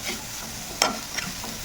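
Papaya being stirred in a pan with salt and sugar while frying, a faint steady sizzle with one sharp scrape and a softer second one.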